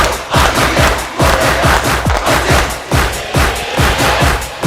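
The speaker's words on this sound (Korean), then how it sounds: "다시 박수 칩니다." Rhythmic group hand clapping at a seniors' exercise class in Jeonju, steady repeated claps with vocal shouts mixed in, close and loud.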